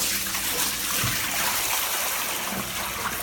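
Water from a standard pressurized shower head pours steadily into a container, a dense continuous splashing rush that stays even and loud throughout, with no talking.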